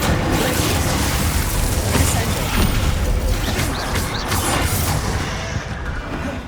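A fire spell is cast in the Hogwarts Legacy video game: a dense, roaring burst of flame with rumbling crashes and crackles that holds steady for several seconds before easing off, loud and close.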